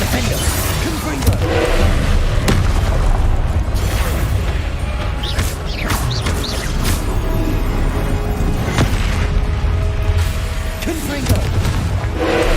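Confringo fire spell blasts in Hogwarts Legacy go off repeatedly as booming impacts over a constant rumble of combat effects, with a voice talking throughout.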